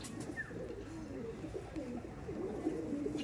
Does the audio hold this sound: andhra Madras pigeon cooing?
yes